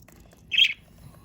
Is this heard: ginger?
no